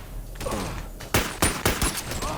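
Several loud, sharp gunshots ring out in quick succession from two guns in the VR game Half-Life: Alyx, preceded by quieter handling noises and some background sound.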